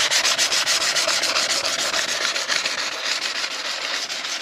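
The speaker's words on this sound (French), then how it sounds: "C'est bien poncé partout." Sanding on the bodywork of a Vito van before matte paint, a loud, close abrasive rasp of rapid back-and-forth strokes in a steady, even rhythm throughout.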